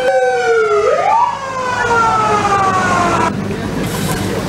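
A fire engine siren wails loud and close during a hospital disaster drill in Padalarang, West Bandung, sweeping up in pitch and then holding with traffic noise beneath it.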